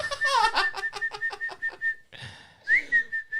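A person whistles imitating bird calls, with rapid trilling chirps followed by a short pause and then rising, warbling whistled notes, loud and close.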